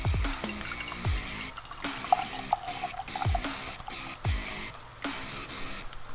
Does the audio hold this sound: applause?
no